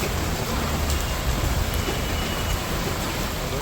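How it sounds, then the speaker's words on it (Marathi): Steady rain falls in foggy hill country around Mahabaleshwar, a dense, even hiss of drops that fills the whole stretch at constant loudness, with no voices. "धुका बघा धुका धुका आणि पाऊस"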